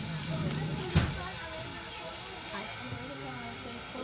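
Steam train on a slightly snowy day in Lancaster, its steady broadband hiss of venting steam continuous throughout, with a brief louder burst near the start and faint voices underneath.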